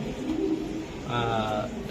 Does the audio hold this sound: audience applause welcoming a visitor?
no